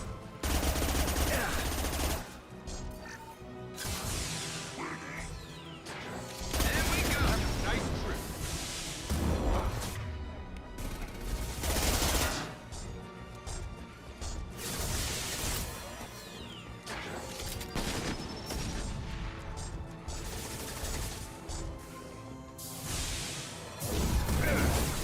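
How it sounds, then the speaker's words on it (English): Repeated high-impact gunshots in the Mass Effect 2 video game crack out in loud, dense bursts with whooshing and crashing impacts, recurring across a long stretch of chaotic combat with voices in the mix. "Firing a high impact shot."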